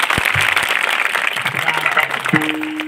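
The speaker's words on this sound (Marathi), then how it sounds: "तुम्ही टाळ्या सुद्धा वाजवू शकत नाही. वाजवा जरा जोरात सर्वांनी" Audience applause at a Marathi kirtan gathering, a dense continuous patter of many hands clapping together close by, with a low tonal note, likely from an instrument, entering near the end.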